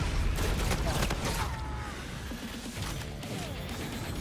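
A grenade blast and crashing gunfire erupt in a Call of Duty: Infinite Warfare beta match, a dense, continuous barrage of impacts and booms.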